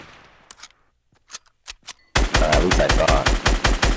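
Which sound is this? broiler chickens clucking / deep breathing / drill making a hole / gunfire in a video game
gunfire in a video game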